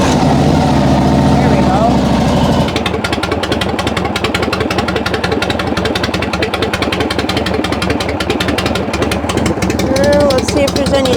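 A 1978 Harley-Davidson FX/FL Shovelhead motorcycle engine fires up after a brief crank, then settles into a loud, close, lumpy idle with rapid, uneven thumping pulses, with a short spoken remark near the start.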